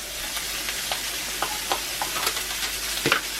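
A good-sized knob of butter sizzling in a cast iron pan, a close, steady hiss with scattered crackles and a few sharper pops toward the end.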